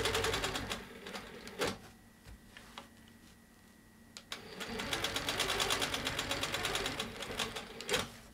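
Sewing machine stitching straight quilting lines along a ruler on an Alaska-themed quilt, a steady rapid mechanical chatter that runs, pauses briefly, then resumes louder and continuous, close and alone.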